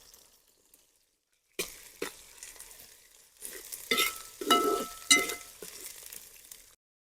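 Crushed ginger and chopped green chilies sizzle and crackle in a hot oil pan while being stirred, with scraping bursts and bubbling growing louder, fairly close, no talking.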